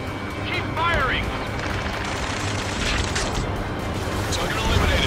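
Gunfire in the jet combat game Ace Combat 7, during a Cape Rainy assault mission: a steady, dense burst of rapid shots runs under engine roar and radio chatter for the whole stretch.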